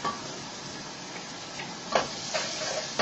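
Green peppers frying in a hot pan for a South African miners' dish: a steady close sizzle and hiss with a few brief stirring scrapes, no voices.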